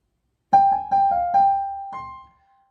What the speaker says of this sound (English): So G is the focal point, and you're going up, back, down, down again, and back up again. So that one is a upper turn.